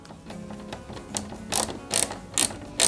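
Small screws being driven into the metal rails of an Eaglemoss Ghostbusters Ecto-1 scale model, heard as short clicking ratchet-like turns in quick bursts, growing louder toward the end, close up with no talk.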